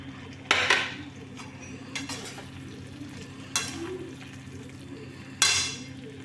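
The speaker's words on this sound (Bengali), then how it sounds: "ভেজে রাখা মশলা দিয়ে একটু নেড়ে নিচ্ছি" Pumpkin chhokka being stirred with fried spices and grated coconut in a pan, with a low steady sizzle and a few sharp scrapes and clinks of the spoon against the pan spaced through the stretch.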